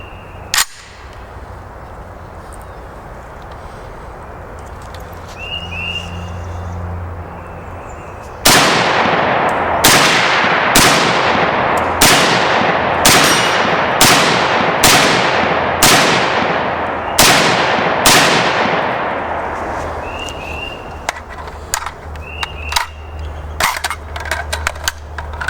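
A Mini-14 rifle fires a rapid string of about ten loud, sharp shots outdoors, followed by the clicks and clatter of a magazine reload and more handling noises afterward, with no talking.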